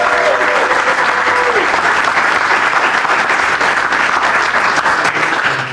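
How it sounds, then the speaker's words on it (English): A crowd at a City of Orange Township ceremony gives a sustained, loud round of applause for the Navy Junior ROTC, steady clapping filling the whole stretch with a faint whistle near the start. "And a rousing round of applause, ladies and gentlemen, for our Navy Junior"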